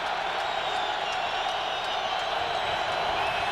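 A stadium crowd at the 2003 AFC Championship Game between Indianapolis and New England, a broad, steady roar that holds at an even level throughout, with faint cheers rising out of it.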